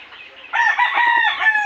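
A backyard rooster lets out a single crow, starting with a faint lead-in and then a loud, bright, wavering call lasting just over a second, close and alone.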